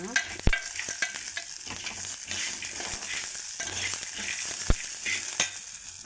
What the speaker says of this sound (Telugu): ఇవి మినపగుళ్ళు తీసుకోవాలి కరేపాకు ఎల్లిపాయలు కూడా వేసుకోవాలి బాగా వేయించుకోవాలి